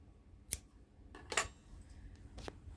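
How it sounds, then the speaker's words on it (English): Scissors snip through loom-knitted yarn strings on a knitted octopus, a few sharp isolated cuts spaced about a second apart, close and fairly quiet with no talking. "then I'm going to cut those strings"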